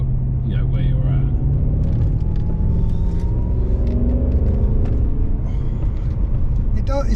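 A BMW E39 M5 engine idles with a steady low rumble, then rises and falls in short throttle blips, close and loud throughout.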